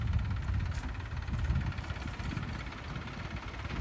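A tractor engine runs with a steady, close, low rumble and a vibrating, knocking texture throughout.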